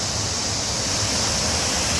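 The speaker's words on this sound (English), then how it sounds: "have surpassed the first waterfall" A powerful waterfall in Samoa rushes in a dense, steady, loud roar of falling water, close by and uninterrupted, with no voices.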